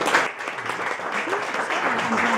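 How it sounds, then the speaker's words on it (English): Warm round of applause from guests at a wine tasting held in a private home, a short dense burst of clapping that stays fairly loud throughout. "But we can't go any further now without giving a very warm thank you and a very warm round of applause to Dave House and Cathy Lego"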